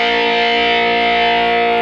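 A heavily distorted electric guitar rings out on a loud sustained note from a riff. It holds steady and thick with overtones across the short stretch.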